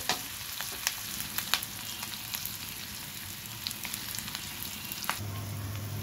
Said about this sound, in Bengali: ধীরে আঁচ দিয়ে ভাজতে হবে